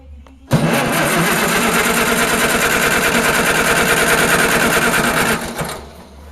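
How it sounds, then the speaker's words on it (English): An Allis-Chalmers WD45 tractor engine cranks over steadily on the starter during a compression test, a loud, continuous rhythmic churning that lasts about five seconds before stopping abruptly. "So let's crank it over and see how much compression we get out of it."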